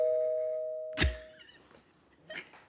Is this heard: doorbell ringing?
yes